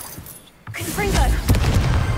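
Confringo fire spell going off in a Harry Potter video game, a sudden roaring burst that swells into sustained crackling booms and pops, loud and close, with a brief shouted voice over it.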